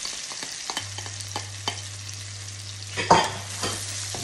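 Mushrooms fry in a pan for an omelette with a close, steady sizzle. Light taps and scrapes from a stirring utensil come through, with one sharper clatter near the end, under a faint low hum.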